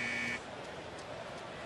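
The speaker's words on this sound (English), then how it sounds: "Got a buzzer there" A short, loud buzzer rings out once during a Cincinnati at Philadelphia baseball broadcast, cutting off abruptly and leaving low crowd and room noise behind.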